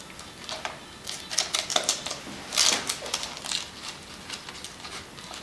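Tape is pulled and pressed around two cups being joined into a column, giving a quiet, irregular run of crackly rips and taps close by, with no talking.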